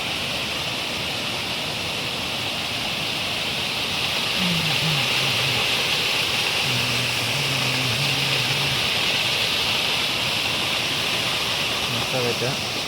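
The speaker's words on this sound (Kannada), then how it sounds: "ನೋಡಿ ಅಲ್ಲೆಲ್ಲ ಬೀಳ್ತೈತೆ." Water tumbles at Kaigal Falls as a loud, continuous broadband roar, close and unbroken, while people chat quietly in the background.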